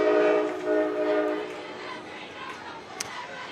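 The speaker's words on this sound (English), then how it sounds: "As the choo-choo train comes heading through the south side of the field." Freight train carrying shipping containers passes along the south side of a high school football field, its loud horn blaring over a constant rumbling roar that slowly fades, with a brief sharp tick near the end.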